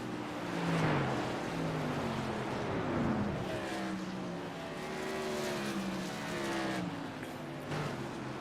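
Race cars, Tour Mods, circling the track during warm-ups on championship night, engines droning and rising and falling steadily from a moderate distance with no talk.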